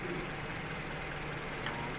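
Engine idling too low at about 600 RPM, a faint, steady hum with a constant high whine and no change in pace throughout, heard alone.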